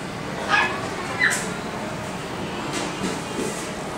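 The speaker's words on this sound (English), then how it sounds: "And here's some cute dogs" Dogs in a pet store in Atsugi give a few short yips and barks over steady indoor background noise, with a couple of sharper bursts standing out early on.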